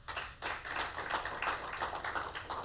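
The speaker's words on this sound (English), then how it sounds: "Round of applause, please." An audience at a secondary school bands showcase media launch gives a round of applause, a steady spatter of many hands clapping at moderate volume for a few seconds.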